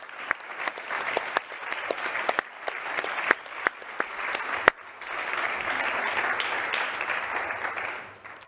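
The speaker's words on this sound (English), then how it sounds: "Please, can you give a big round of applause and a big thank you to our drivers" Audience applause at a 2024 Formula One team launch for the drivers, a steady dense clapping that stays loud throughout, with a few sharper claps standing out near the start.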